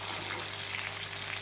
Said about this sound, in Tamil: தேங்காய் நல்லா ஃப்ரை ஆகட்டும்.